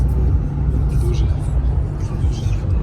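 Car driving along a country road in Ukraine: a steady, loud engine and tyre rumble throughout, with faint voices underneath.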